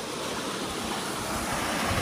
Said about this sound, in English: All right, so the water is draining